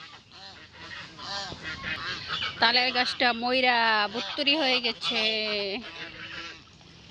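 Domestic ducks, four of one breed alongside local country ducks at a low, wet village spot, burst into loud, harmonic honking and quacking calls in quick succession after a person speaks briefly at the start.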